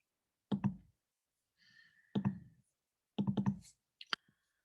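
Mouse clicks in a statistics software dialog: a few sharp, close clicks spaced apart in a quiet room, with a faint softer click between them.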